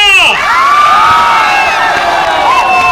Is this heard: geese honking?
no